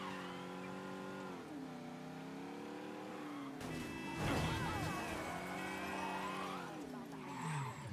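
A car in Mafia III revs with its engine pitch rising and falling, then tires screech and a crash lands midway, followed by more revving and skidding at moderate loudness.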